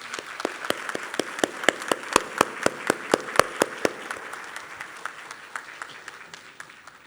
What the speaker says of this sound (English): Please give a round of applause to my parents.